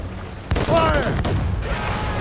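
Cannon fire from sailing warships during a naval battle in the video game Assassin's Creed Rogue, a sharp boom with rumbling tail and a second crack, under shouted commands.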